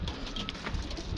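Pigeons on a rooftop give soft, close cooing and fluttering in a short burst, with no voices.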